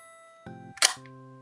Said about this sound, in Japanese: 最後にこの機種の最高速ですね、まあバルナックの最高速1000分の1を見ていきましょう